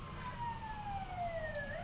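An emergency vehicle siren passes in Los Angeles, heard as a faint, distant wail sliding downward in pitch for a couple of seconds over low street rumble.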